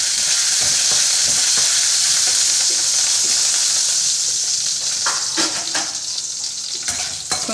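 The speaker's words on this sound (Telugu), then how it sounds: "కొద్దిగా జీలకర్ర, కొంచెం మినపప్పు వేసి కొంచెం వేగనివ్వాలి." Cumin seeds and urad dal fry in hot oil for a South Indian tomato chutney, giving a steady close sizzle with a few brief crackles and stirring scrapes, no talk.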